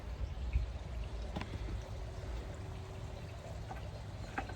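Diluted acid in a bucket is tipped out into a refinished gunite pool, a soft steady pour and splashing heard at moderate distance, with faint trickles and no voices.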